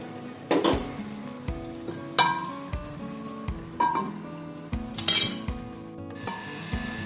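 A metal lid clanks onto a pot of chilli soybean on a gas stove, with a series of sharp clinks and scrapes about once a second, close and fairly loud.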